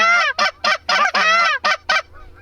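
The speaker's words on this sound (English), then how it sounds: "Trying to go with those other geese." Close, loud goose honks during a goose and duck hunt, a rapid series of about seven harsh calls in quick succession, then a faint trailing call.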